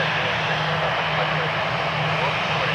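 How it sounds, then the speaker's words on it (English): A Frontier Airbus A321 jet airliner's engines roar as a loud, steady broadband rumble with a low hum underneath, continuous and fairly close at an airport. "Airbus A321"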